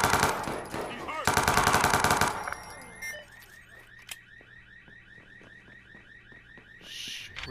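Gunfire in the video game Watch Dogs 2: a loud burst of rapid automatic fire over about two seconds, then a scattered run of quieter, sharper single shots with an alarm-like tone continuing beneath.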